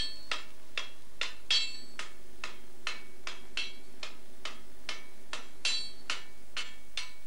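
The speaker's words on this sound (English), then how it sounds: "Repeated heating and hammering changes the way cast iron behaves." Heated cast iron is hammered in a steady rhythm: about fourteen sharp, ringing metallic strikes spaced roughly half a second apart, close and loud, with no talking.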